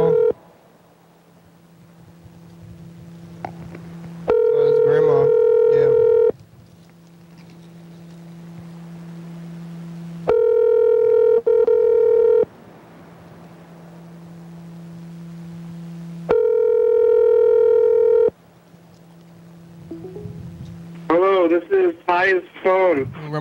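A telephone call is being placed. Steady tones alternate with loud repeating ringback bursts, giving a regular cycle of near, clear signals, and a voice is heard toward the end.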